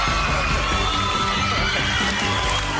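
A studio audience at a television comedy show shouts, whoops and cheers loudly and continuously, with a dense wash of crowd voices and a rhythmic beat underneath.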